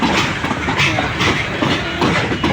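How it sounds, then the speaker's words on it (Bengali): A freight train rumbles past close by at night, with a heavy, continuous roar and rhythmic clickety-clack of wheels over rail joints. "অনেক দূরের জার্নি করে ট্রেনটা এসেছে"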